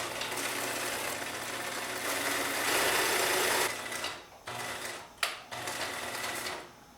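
A sewing machine stitches a pillowcase seam in a close, continuous mechanical whir that runs steadily, briefly stops and starts near the end, then resumes.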